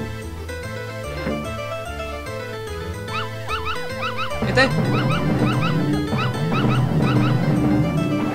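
Many cartoon dogs from the video game Earthworm Jim 2 yip, bark and whimper in quick succession over bouncy game music, with someone speaking briefly.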